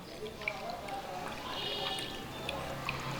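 Homemade weight-loss juice being strained, a soft, faint pour and trickle of liquid with light drips, close by and quiet.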